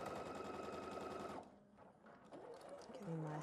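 A sewing machine stitches a quilt block in a steady rapid mechanical chatter, loud and close. It stops partway through, and handling noises and low sounds follow before the machine starts up again.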